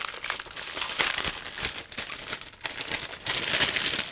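A Blu-ray disc is worked free of crinkly plastic packaging in close, loud bursts of crumpling and crackling, with brief pauses between handfuls and no talking.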